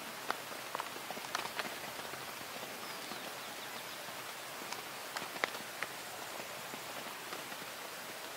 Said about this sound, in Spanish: Pero sigue lloviendo y se ve chidísima